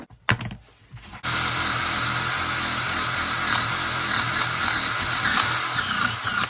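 An impact driver whirs loudly and steadily into an unclamped piece of wood for about five seconds after a brief quiet start with some handling noise.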